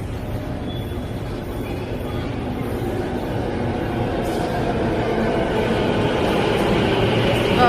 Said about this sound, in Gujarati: તો જો આ હવે મેટ્રો